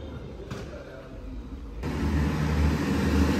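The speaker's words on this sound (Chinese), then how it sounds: "大货车一过，灰尘漫天飞呀！" A big truck rumbles past on a broken, dusty small-town road, low engine noise swelling abruptly midway and staying loud and close.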